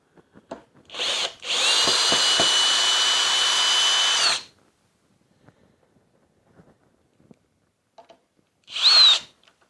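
A Kobalt 24V driver/drill backs a screw out of wood with a couple of short trigger bursts, then a steady loud whine of about two and a half seconds. Near silence follows, and one last brief burst comes at the end.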